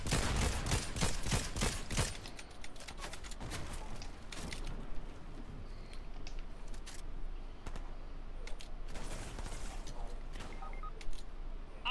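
A shotgun and other weapons fire in a Fortnite match, opening with a rapid cluster of loud, close blasts over the first two seconds, followed by scattered sharper shots and mechanical clicks amid game noise.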